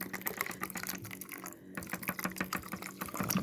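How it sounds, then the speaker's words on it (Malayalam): Water poured into a bowl of oats makes a quiet, uneven splashing and trickling that runs steadily, with small clicks and knocks from the bowl and nearby handling and no voices. "ഓട്സ് എടുത്ത് പാത്രത്തിലിട്ട് അതിൽ കുറച്ച് വെള്ളം ഒഴിക്കുക."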